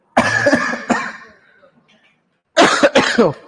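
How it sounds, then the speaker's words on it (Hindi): Two harsh coughing fits, one at the start and another after a short pause, loud and close with a raspy throat-clearing quality. "कैसे कैसे यार खांसी हो गई"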